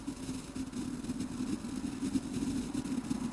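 Synthesized car engine sound made in FL Studio, a steady low idling drone with a dense noisy rumble, moderately quiet and continuous, alone without talk.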